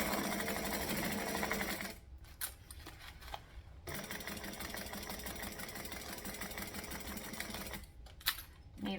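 A sewing machine stitching a fabric bag runs in steady rapid bursts, close and loud, pausing briefly twice between runs of stitching.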